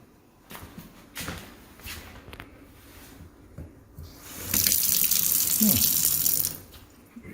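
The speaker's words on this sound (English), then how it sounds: "Kitchen sink." Water from the tap of a new kitchen sink in a townhome under construction gushes loudly for about two seconds after some quieter clatter and talk nearby.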